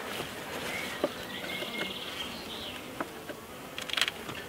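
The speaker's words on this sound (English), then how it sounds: "We probably won't find the queen because there's quite a few bees in here" Honey bees buzz inside a nucleus hive box, a close, continuous insect drone with a few individual bees whining past and small clicks or knocks, no voices over it.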